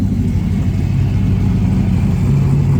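A Mazda Miata fitted with a 5.3 V8 and a Hellcat supercharger, its engine giving a loud, steady low rumble close by.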